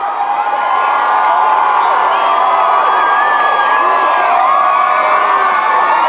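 A dense parade crowd celebrating the Blue Jays' World Series win in Toronto, 1992, roars continuously with high shouts, whoops and cheers, loud and sustained without a break.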